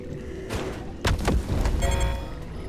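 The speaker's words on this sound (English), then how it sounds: "Oh, he exploded my car." A car explodes in the Pacific Drive video game: a sudden deep boom and thud cut through low rumbling background noise, followed by a few rattling after-impacts.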